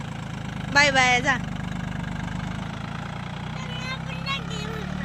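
A diesel tractor engine idles with a steady low chug throughout, while voices speak briefly over it.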